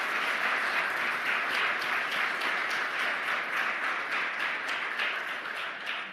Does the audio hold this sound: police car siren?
no